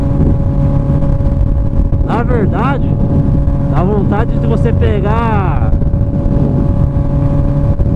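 Honda CB 1000R engine and exhaust drones steadily under heavy wind rush while riding, a deep continuous rumble with someone talking over it for most of the stretch.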